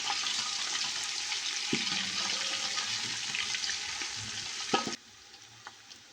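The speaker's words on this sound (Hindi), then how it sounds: "लहसुन और अदरक को भी मैंने भून लिया अच्छे तरीके से।" Ginger garlic paste fries with golden onions in a pan, a steady loud sizzle with occasional stirring scrapes, then the hiss drops off near the end.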